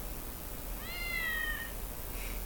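A cat in the Chainsaw Man anime gives a single drawn-out meow lasting under a second, clear and close over a steady low background hum, with a faint short chirp following.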